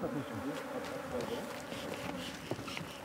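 Bees buzz densely around traditional reed beehives where old-style beekeeping is still practised, a continuous close insect drone filling the scene with no talk.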